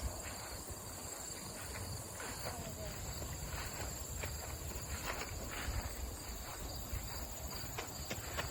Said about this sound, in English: You guys hear the crickets or bugs?